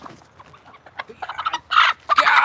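A hen squawks and screeches loudly after being picked up on a farm, with quiet clucks at first building to harsh, frantic cries, heard up close with no talking.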